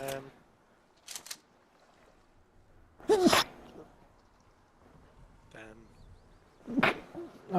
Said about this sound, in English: Oh, I can sneeze again.